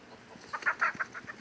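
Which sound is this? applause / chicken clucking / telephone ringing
chicken clucking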